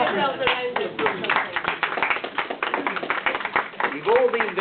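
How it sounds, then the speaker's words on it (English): Audience applause at the Beyond Cyberdrome 2007 intermission games, with scattered claps and taps mixed into loud crowd voices and shouting. It holds steady for several seconds and swells slightly near the end. "Give yourselves a round of applause."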